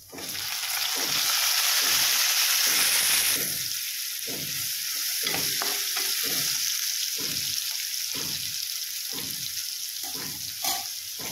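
Garlic and tomato fry in a pan for a spiny gourd curry, with a loud close sizzle that eases into rhythmic stirring strokes repeating roughly every half second over ongoing frying.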